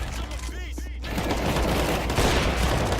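Gunfire from a shooting video game crackles in a dense fusillade of rapid shots, loud and continuous after a brief quieter moment, with a voice talking over it.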